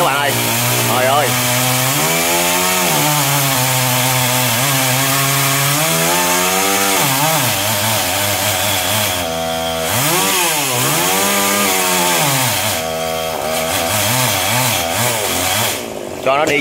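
A chainsaw roars steadily up close, its pitch rising and dipping as it bites through a branch of a xà cừ (African mahogany) tree, with brief pauses between cuts.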